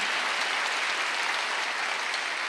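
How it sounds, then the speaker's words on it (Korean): Congregation applauding during a Wednesday church worship service, a steady dense wash of clapping throughout, loud and close with no talking. "박수하세요"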